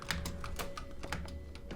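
Computer keyboard keys are pressed rapidly during a PC game, giving a quick irregular run of close, crisp clicks with no talking.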